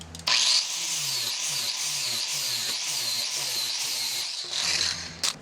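A power tool drills out a rivet on the firewall of a 1930s car, whining loudly and close with a steady high-pitched grind that dips and recovers rhythmically under load before stopping briefly and restarting.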